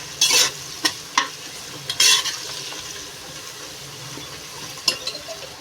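Onions are fried until golden brown in a pan for Bengali chicken akhni pulao, with a low, steady sizzle broken by several sharp, close scrapes of a stirring spoon. No one speaks.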